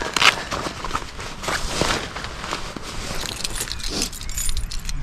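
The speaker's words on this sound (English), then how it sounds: "Keys." Keys jingle and rattle in bursts close by on arrival at a visit in Healesville, with a car and footsteps faintly in the background and no talking.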